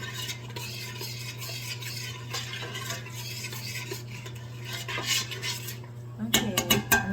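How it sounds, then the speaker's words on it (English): Spoon stirring and scraping in a pot while cornstarch gravy cooks, with continuous metal clinking over a steady hum, then a burst of sharper clattering of pots and cutlery near the end. "I'm going to get a spoon so I can taste this"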